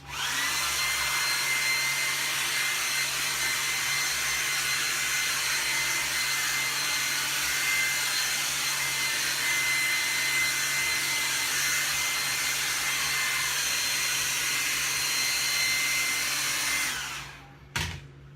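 A hair dryer blows steadily and loudly at close range while drying hair after a home haircut, a constant whooshing whine that runs unbroken for about seventeen seconds before cutting off abruptly.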